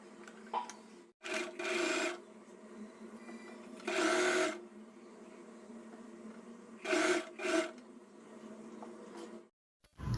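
Sewing machine stitching a pleated long gown made from an old saree, close and fairly quiet, running in several short bursts of rapid whirring separated by pauses.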